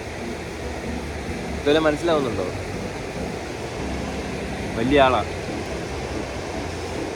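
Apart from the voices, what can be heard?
flowing river at Kasol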